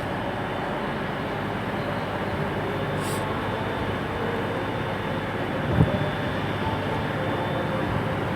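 ScotRail Class 320, 304 and 318 trains pulling out of Glasgow Central, a faint, distant steady rumble filling the station with a brief soft thud partway through and no voices.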